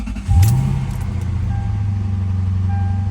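A 2001 Lexus GS430 V8 cranks briefly and catches after an alternator swap and ground wire repair, then settles into a steady, close idle hum; no voices.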